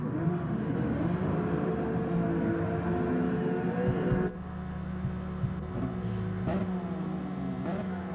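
Race car engines from a Supercars racing video game at Brands Hatch GP drone steadily at the start, a sustained layered roar with a brief dip midway, under continuous background sound.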